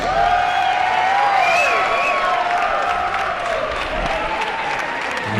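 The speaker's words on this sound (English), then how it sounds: "have a nice round of applause For both fighters" A sustained wave of crowd applause with cheering fills a Muay Thai fight venue at the Bradenton Area Convention Center in Florida, loud and dense throughout, with whoops and whistles over steady clapping.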